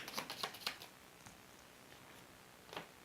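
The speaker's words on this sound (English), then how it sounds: "Shuffle the findings card back in." Quick riffling of playing cards being shuffled during a solo board game of This War of Mine, a few crisp bursts at the start, then quiet with a couple of soft card taps.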